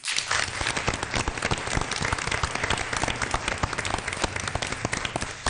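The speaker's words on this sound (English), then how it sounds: "She was clapping for her dad." Applause at a school board meeting honoring Andy Foley: dense, steady clapping from a room full of people, loud and sustained throughout with no pauses or voices.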